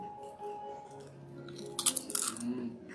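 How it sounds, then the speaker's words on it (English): Someone chews crispy food, with a few sharp, close crunches bunched in the second half over a low background hum. "Crunch, crunch. I can hear it in my head."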